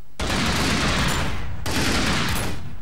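Dense automatic gunfire crackles in a Minecraft LimitedWar server match, an Arma 3-style military mode, as two long continuous bursts separated by a brief gap, loud and close with no talk over it.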